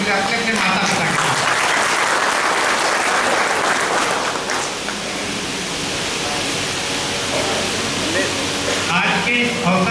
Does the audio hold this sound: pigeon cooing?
no